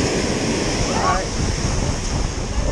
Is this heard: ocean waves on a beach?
yes